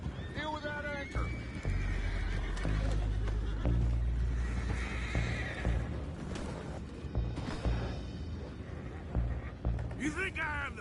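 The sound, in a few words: horses neighing, from the video game Red Dead Redemption 2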